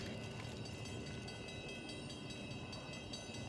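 A steady, quiet rumble of a slow local freight train hauled by two SD40-2 locomotives rolling by in the distance, continuous and even with faint metallic rail noise.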